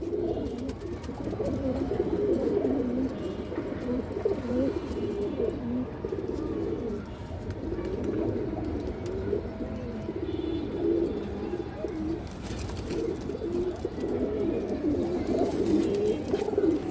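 Stone-eyed Chila pigeons coo continuously in a low, rolling murmur, with several birds overlapping steadily at close range throughout, alone and without talk.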